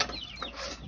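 Easter Egger chickens clucking briefly in a backyard coop, a close, busy mix of soft fowl calls over low rustling.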